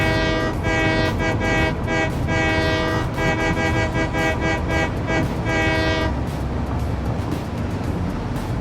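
A train in the video game Satisfactory rumbles along steadily, its loud sustained horn sounding in repeated stretches for about six seconds before only the rolling rail noise carries on.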